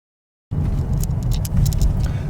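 Steady low rumble from inside a moving car near Warner Brothers, running loud and continuous after a short silence, with faint ticking and rattles above it.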